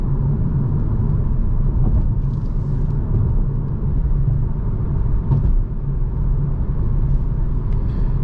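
A 2023 Renault Clio E-Tech 145 HP full hybrid accelerates at night, heard from inside the cabin as a steady low engine and road rumble without speech.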